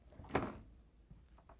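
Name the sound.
refrigerator French door being opened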